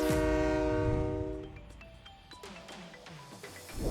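A train sounds a loud, sustained horn as it passes through a market on a railway line, then wheels clatter and rumble on the rails with scattered clanks, fading slightly before noise rises again.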